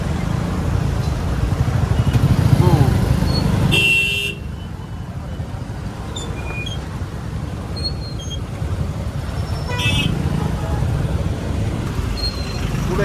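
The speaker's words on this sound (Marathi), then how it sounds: "अरे ट्रॅफिक" Road traffic on a busy street: engines of motorcycles and cars rumble steadily, and sharp horn toots sound twice, once early and once near the end.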